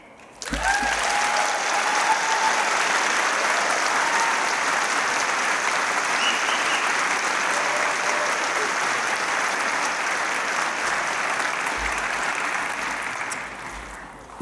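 Sustained, dense applause fills a chiropractic college graduation hall for roughly fourteen seconds, steady and loud throughout, with a faint cheer early on before it tapers at the end.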